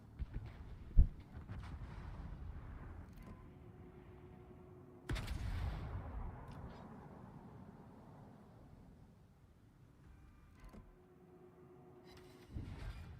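Naval guns fire in World of Warships during a battle, including a Stalingrad cruiser under enemy fire. A sharp report rings out early, followed by a heavy boom and distant rumbling shots over a steady engine and sea drone.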